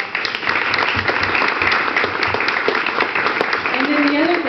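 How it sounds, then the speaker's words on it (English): Audience applause for the parents of sick children, steady dense clapping throughout, with a voice briefly heard near the end. "So let's give them a round of applause."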